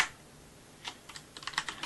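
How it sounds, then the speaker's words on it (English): Keys clatter on a CM Storm QuickFire Pro mechanical keyboard, starting with a few scattered presses and building into a quicker burst of close, crisp clicks near the end. "I'll show you typing first of all"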